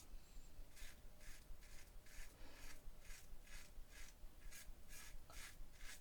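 Straight razor with a carbon steel blade shaving two-day stubble with the grain, a quiet rhythmic series of rasping scrapes, about a dozen even strokes close up.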